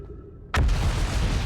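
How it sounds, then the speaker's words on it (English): In the game Outer Wilds a planet explodes: after half a second of quiet hum, a sudden loud boom erupts and rolls on as a dense, rumbling roar. "My planet's exploding."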